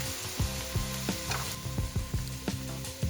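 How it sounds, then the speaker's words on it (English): Doubanjiang spicy bean paste frying in olive oil for mapo tofu, a steady close sizzle broken by repeated rhythmic scraping strokes of a utensil stirring the pan, with no talk. "add more olive oil, Doubanjiang, which is a spicy bean paste"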